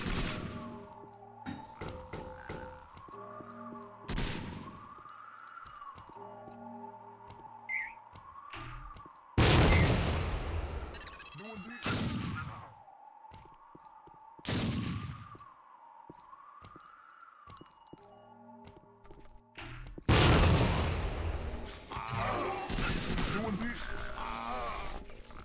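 Gunfire and loud blasts erupt in the Tactical Ops Monster Attack shooter game, with several heavy bursts of shots and booms separated by quieter stretches, over a wavering siren-like tone and game voices.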